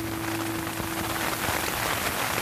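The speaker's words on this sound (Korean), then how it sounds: "비가 아주 세차르게 내리고 있습니다" Heavy rain pours steadily outdoors on a windy hillside at night near Taebaek's Maebongsan, a dense, continuous hiss of drops hitting surfaces, close and unbroken, with no voices.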